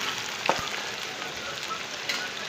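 Fish fries sizzling in a small amount of oil, a steady moderate crackle and hiss with a couple of faint taps, no voices.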